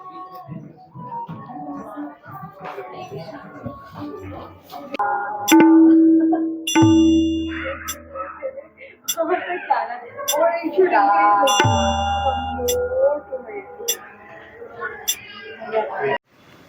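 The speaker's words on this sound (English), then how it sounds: "what I like the most about this gallery is the bells that you can see, all the brass ones. In fact, we tried it, it's working." Brass bells ring out in a music museum gallery, a few clear struck tones with long ringing decays rising over steady nearby talk.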